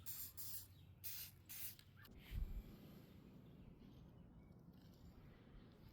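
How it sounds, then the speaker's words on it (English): Spray paint hisses in a few short bursts onto a cleaver handle made from an old rasp, followed by a dull knock and quiet room tone. "Make sure you go directly above it so you don't spray underneath."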